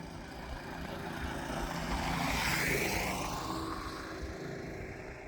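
A twin-engine gasoline golf cart, unstable and noisy, drives past with a steady engine drone that swells to a peak midway and then fades, with no talk.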